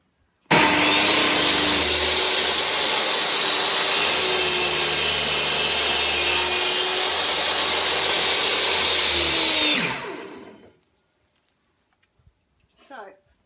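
A power saw cuts wood at a 45-degree mitre angle, roaring loud and steady for about nine seconds before spinning down into near silence with a faint clatter afterward.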